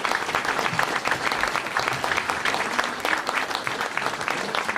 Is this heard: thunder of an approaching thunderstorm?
no